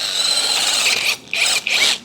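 A loud, high-pitched whining Tekiro CD-RH2265 cordless brushless rotary hammer runs steadily, then cuts out briefly and restarts in two short bursts, close up.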